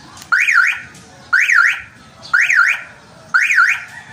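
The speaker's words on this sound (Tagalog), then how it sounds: "car alarm." Venom car alarm on a pickup truck, sounding four loud identical warbling chirps at a steady one-second rhythm, close and clear with no talk.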